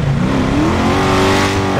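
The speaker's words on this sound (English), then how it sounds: "Drift through traffic." A car in GTA 5 drifts through highway traffic, its engine revving loud and rising in pitch with a hint of tire squeal, close and continuous.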